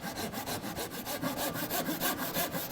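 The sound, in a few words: hand saw ripping wood in the kerf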